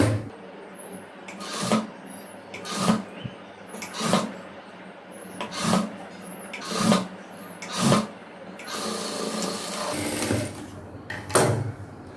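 Sewing machine stitching a quarter-inch seam on folded blouse fabric, a rhythmic series of short whirring bursts separated by brief pauses, close and fairly quiet.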